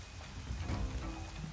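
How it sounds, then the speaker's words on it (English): Steady rain indoors inside a roofed ancient museum building in the video game Horizon Zero Dawn, a continuous soft patter with no talking. "it is apparently raining inside this building that I'm pretty sure has a roof"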